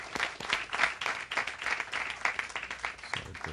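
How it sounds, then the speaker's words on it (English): At a Los Angeles event honoring the Altamed health provider, an audience applauds in a steady rolling wave of moderately distant clapping with no voices over it. "give the leadership, the staff, the patients, and all those who make Altamed the great provider that it is a big round of applause"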